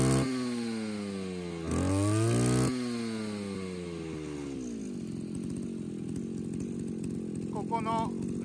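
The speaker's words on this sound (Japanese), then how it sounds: "回転数、草刈り機の刃の回転数を変化させるためには握った状態で" Engine of a grass-cutting brush cutter running close by, its pitch sliding down and up as the blade speed is adjusted, ending in a steady lower idle with a rough buzzing texture.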